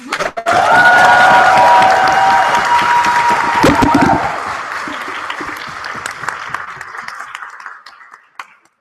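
Audience at a university philosophical society debate breaking into loud, sustained applause with some cheering, a dense crowd roar that gradually fades out toward the end.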